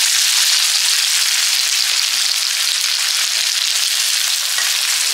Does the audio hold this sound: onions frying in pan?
yes